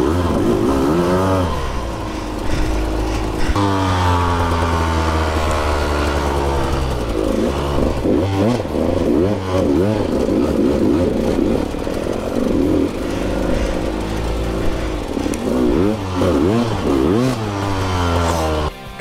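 A KTM 200XCW two-stroke enduro motorcycle climbing a rough trail, its engine loud and close, revving up and down in repeated surges and drops in pitch, with no talking.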